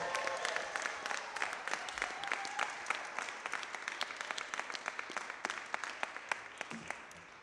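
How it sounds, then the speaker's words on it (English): Audience applause at a groundbreaking ceremony for the Geneva Car Barn and Powerhouse, a steady round of many hands clapping with crisp individual claps, holding for several seconds before gradually thinning out. "Applause line."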